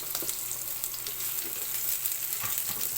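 Garlic and onion sauté in hot oil in a pan, a continuous close sizzle with soft crackles and occasional stirring scrapes, no speech.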